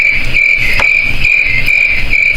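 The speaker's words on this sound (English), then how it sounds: "Exactly. Crickets." A dense chorus of crickets chirps continuously in a steady, loud, close pulsing trill with no other sounds, used as a silence gag.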